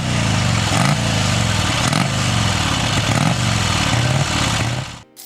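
A 1948 Vincent Black Shadow motorcycle engine runs loudly and steadily at close range, with a rhythmic rumble and slight pitch swells, before cutting off abruptly at the end.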